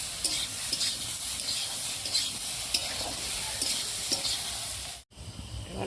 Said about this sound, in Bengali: লঙ্কার গুঁড়ো, একটু জিরে বাটা, একটু আদা বাটা, ভালো করে কষিয়ে নেব।